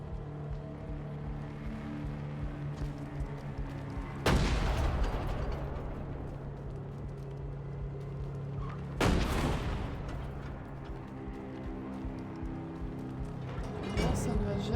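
Heavy cannon blasts from a tank in the video game Reanimal, three big booming shots spaced several seconds apart over a dense, droning game soundtrack.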